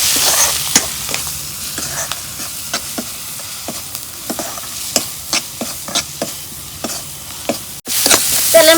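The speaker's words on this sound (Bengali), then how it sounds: "এখন আমি তেলের মধ্যে ভাজা নিব।" Spices and dried fish fry in oil with a constant sizzle, punctuated by repeated sharp scraping strokes of a spatula against the pan, then a louder surge of frying at the end.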